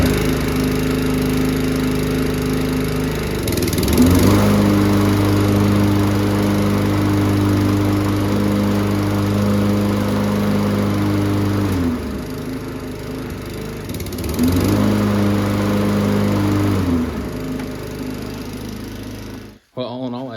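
A free, abused Toro push mower runs close by while its blade brake clutch is tested. The engine drones loudly and steadily, dips twice as the load changes, and cuts off abruptly near the end.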